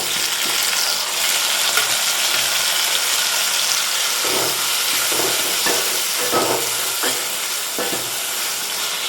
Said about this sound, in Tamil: தக்காளி நல்லா நல்லா வதங்கட்டும்